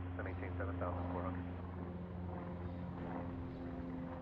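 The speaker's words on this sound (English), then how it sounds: "here's Epic Cessna 172 doing some practice touch and goes" A Cessna 172 flying practice touch-and-goes at an airport drones with a steady low propeller hum in the background, while a person talks over it.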